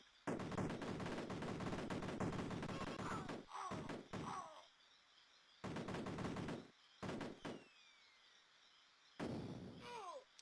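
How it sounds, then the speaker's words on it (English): Gunfire and explosions burst in the video game Cannon Fodder Plus, loud clustered volleys of rapid shots and blasts separated by short silences. "Just ran into that explosion."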